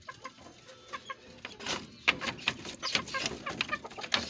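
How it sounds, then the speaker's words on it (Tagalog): Backyard chickens kept for meat cluck and chatter in short, irregular bursts, some close and louder, others softer in the background, with a few sharper calls toward the end. "Yung mga manok ko."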